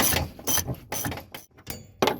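A ratchet clicks in bursts as it turns a nut on a conversion van, giving about five sharp, close ratcheting strokes with short pauses between them.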